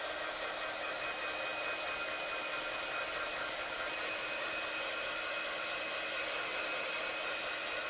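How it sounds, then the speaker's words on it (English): A heat gun blows steadily to dry wet paint on a mixed-media seahorse painting, giving an even, continuous broadband hiss and whoosh that holds at constant loudness throughout, with no talking. "So out comes the good old heat gun, and let's give it a dry."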